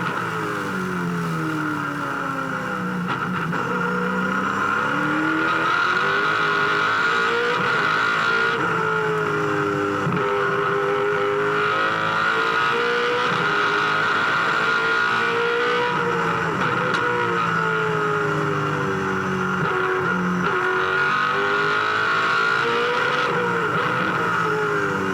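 An HRT V8 Supercar engine screams at full throttle at Hidden Valley Raceway in a 2003 race, rising and falling through gear changes and corners, loud and continuous for the whole stretch.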